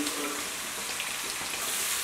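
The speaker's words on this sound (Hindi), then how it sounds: "अब हम एक बाउल लंबे कटे प्याज डालेंगे और इसको सॉफ्ट होने तक फ्राई करेंगे।" Long-cut onions fry in a pan with salt, giving a steady, close sizzling hiss that continues evenly throughout, with no voices.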